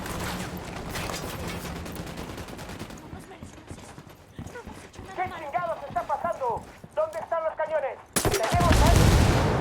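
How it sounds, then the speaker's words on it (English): Gunfire in the video game Ghost Recon Wildlands, rapid bursts of shots in the first part, followed by voices speaking and a loud burst near the end. "I'm opening fire."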